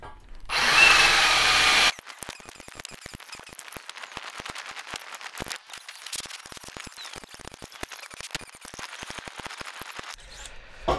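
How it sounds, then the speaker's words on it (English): A power drill bores holes into a heavy steel workbench built without welding: one loud, sustained drilling burst of about two seconds, then a run of sharp clicks and knocks from handling and bolting. "I'm going to take this out and drill the rest of the holes."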